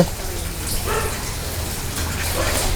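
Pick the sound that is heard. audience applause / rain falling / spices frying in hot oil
rain falling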